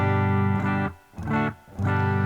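An electric guitar plays a clean signal through a Boss Katana amp with a little reverb. Three sustained, ringing chords are strummed one after another, loud and close, with brief dips between them.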